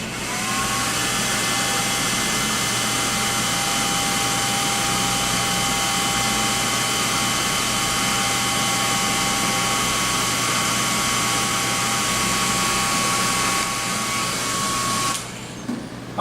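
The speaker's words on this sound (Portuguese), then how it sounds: "Aqui eu utilizarei um secador de cabelo para conseguirmos adquirir essa temperatura mais rápido." A handheld hair dryer blows hot air onto a temperature sensor in a classroom-style electronics demo, giving a loud, steady motor whine and airflow roar that runs continuously before cutting off near the end.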